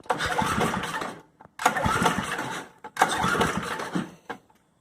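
An old Craftsman Eager 1 snowblower engine is pull-started three times. Each tug brings a short burst of coughing, sputtering engine noise that dies away after about a second, with brief pauses between attempts.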